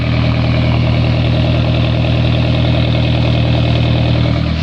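A 2003 PT Cruiser's 2.4 turbo engine idles with no muffler fitted, giving a steady, loud, throaty rumble with an even low pulse from start to finish and no talk.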